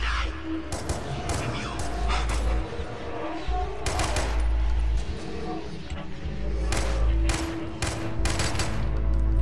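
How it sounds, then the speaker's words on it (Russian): Rapid gunfire bursts from the Far Cry 3 video game ring out in repeated volleys over a dense, constant background of in-game sounds, loud and close throughout. "Точные выстрелы!"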